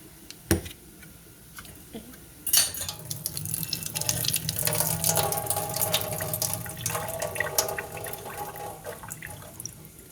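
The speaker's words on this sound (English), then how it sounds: "I'm going to go ahead and drain my can of corn." Water pours and splashes into a metal sink as it is drained from a can of corn, rising to a steady trickle, with a couple of sharp clanks of the can at the start.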